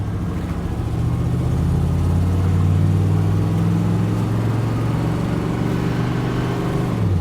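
A big truck engine revs hard and steadily as it accelerates, a loud, close, sustained drone with rising harmonics holding for several seconds before dropping off at the end, with no talk over it.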